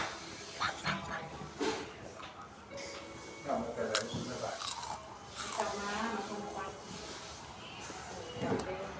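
Crunchy Oreo wafer chewed close to the mic, with repeated crisp bites and crunches while a person talks intermittently over the chewing.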